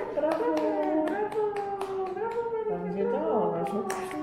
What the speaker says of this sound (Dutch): Ja, klappen!